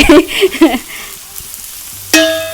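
A voice speaks briefly over faint sizzling, then pork hisses and sizzles close up on a hot grill pan with a sharp pop.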